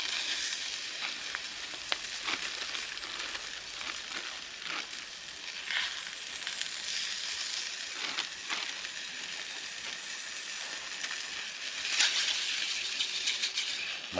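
Liver sizzles steadily in a pan on a folding wood fire stove inside a lavvu shelter while wild camping, with a continuous close crackle and occasional clicks of stirring.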